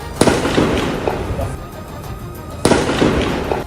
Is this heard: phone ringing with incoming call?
no